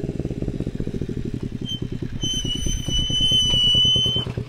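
A child's small motorcycle revs nearby with a rapid, chugging engine pulse that climbs and holds a louder, higher pitch before easing off, and a thin whine rises over it.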